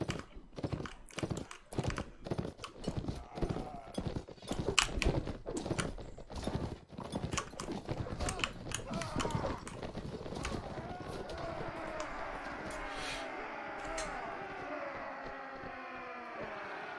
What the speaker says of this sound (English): I'm gonna get my horse back for a sec.